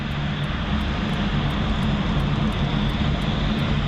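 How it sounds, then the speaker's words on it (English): A rugged propeller airplane fitted with upgraded engines and scimitar propellers drones steadily up close, a loud continuous engine roar with a rapid regular blade beat and no voices. "So it's a very versatile plane. Very rugged, very strong."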